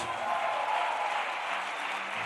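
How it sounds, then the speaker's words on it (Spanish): Church congregation applauding together during a sermon, a steady wash of many hands clapping at moderate level with no break, no voices standing out. "Den un aplauso a mi Rey Jesús."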